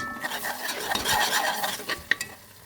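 Tomatoes are stirred in a pan, a close, soft sizzle with scraping utensil strokes and a couple of sharp clinks of metal against the pan near the end.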